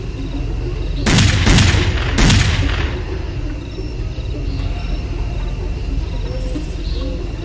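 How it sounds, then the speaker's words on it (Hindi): Two loud gunshots about a second apart, each with a booming, rolling tail, in the horror game Ronald McDonald - The Killer Clown Horror Game, followed by a quieter ambient bed with faint chirping. "अरे गोली मारी"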